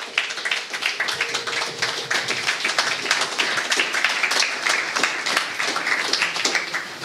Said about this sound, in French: Acclamons très fort le Seigneur pour cette parole.